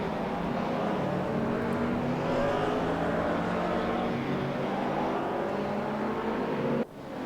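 Race cars, including a BMW, battle around the Nurburgring in a racing video game, a continuous loud engine drone with steady revving that holds throughout and dips briefly near the end, with no talking.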